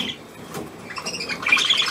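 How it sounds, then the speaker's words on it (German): A small white gull squawks and chirps close by, with short harsh calls building toward the end; no talking is heard. "Kleine weiße Möwe."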